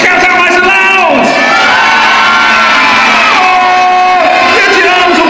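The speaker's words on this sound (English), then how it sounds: "Oh, get your arms up in the air, screaming for carrots." A loud audience of young children shouting and cheering together on a children's TV show about growing vegetables, a sustained crowd roar of high voices rising and falling over several seconds.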